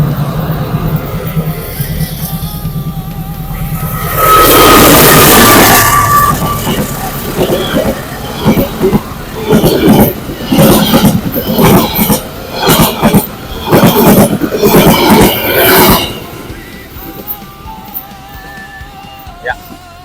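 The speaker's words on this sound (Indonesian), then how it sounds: "nunggu kereta lewat" A train passes along railway tracks at night, rising to a loud rushing roar with rhythmic clattering of wagons for about ten seconds, then fading, with people talking nearby.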